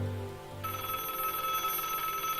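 A telephone rings in the Broken Sword adventure game, a bright electronic trill starting after a low murmur and sustaining loudly to the end, with no voices.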